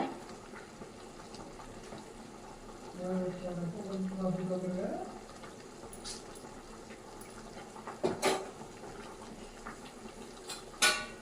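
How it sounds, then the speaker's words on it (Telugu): Chicken curry on the stove, with soft bubbling and low kitchen noise, a person talking, and then a sharp metallic clank as a pot lid is placed, followed by another lighter clink. "ఇప్పుడు మూత పెట్టుకోవాలి"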